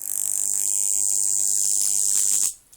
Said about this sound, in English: It's actually a bigger arc than the bloody them as other ignition transformers aren't, isn't it?